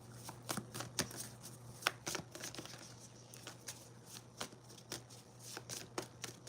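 Tarot cards shuffled and pulled from the deck, a steady run of close, crisp riffling snaps and flicks repeating in quick irregular rhythm over a low steady hum.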